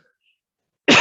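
A single sudden, loud human cough bursts out right at the end after nearly a second of silence, short and close to the microphone.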